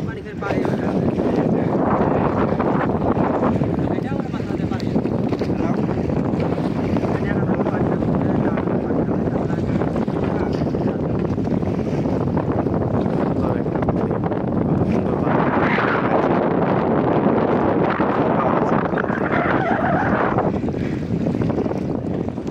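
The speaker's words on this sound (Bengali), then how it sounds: "তিরপালের মাধ্যমে বাতাসের সাহায্যে নৌকাটা আগাচ্ছে" A wooden sailboat with a tarpaulin sail crosses the Padma river through wind and waves, giving a loud, continuous roar of wind buffeting and rushing water with no break.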